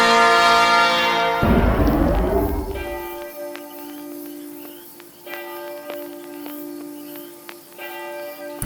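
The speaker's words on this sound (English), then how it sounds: "That rusty schoolhouse bell is in such a state of disrepair that it's physically impossible for it to ring." A rusty, badly decayed schoolhouse bell rings out as a loud, swelling tone that settles into a long, sustained hum with faint metallic strikes over it.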